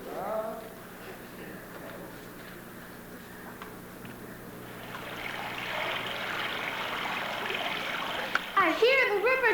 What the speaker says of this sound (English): I hear the river just ahead.